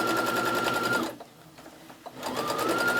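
Sewing machine stitching pieces of a scrappy patchwork quilt on a fusible watercolor grid, running steadily and close, pausing for about a second with faint handling sounds, then starting up again.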